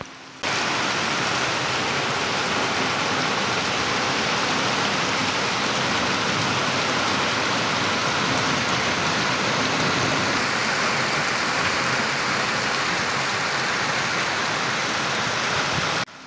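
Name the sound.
heavy rain with canal water flowing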